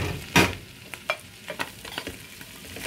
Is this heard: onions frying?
yes